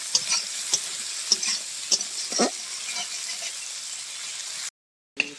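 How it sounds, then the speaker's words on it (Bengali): Chopped onions fry in hot oil in a pan for a fish-head muri ghonto, a steady sizzle broken by sharp scrapes and clinks as the spoon stirs, close and fairly loud, cutting out near the end. "পেঁয়াজগুলো আমি ভালো করে লাল করে ভেজে নিব"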